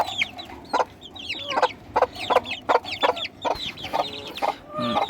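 Several chickens clucking close by, a busy run of short repeated clucks and squawks with no talking.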